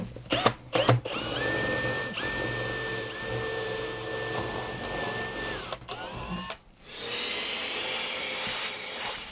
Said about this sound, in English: A 3/16 brad point bit, the same we use to drill the bridge.